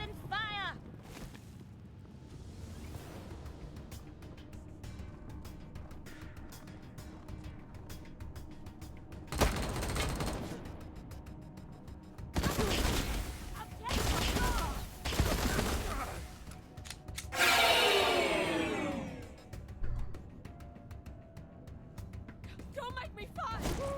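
Marshals in Wasteland 3 open fire in heavy volleys of gunshots, with several dense bursts of shooting and explosions spaced through a tense combat scene, with voices speaking between them.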